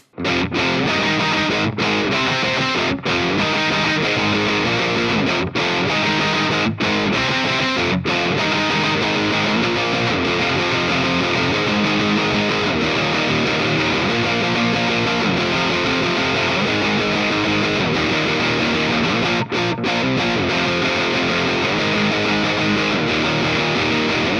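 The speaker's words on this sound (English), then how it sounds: "I'm also going to dial the gain back a little bit and get more of a gritty punk rock tone" Dense, gritty distorted electric guitar in drop C tuning through a Thorn Silver Spurs distortion pedal, a punk rock tone, plays continuously at steady loudness, with a few brief dropouts between chugging riffs, no voices.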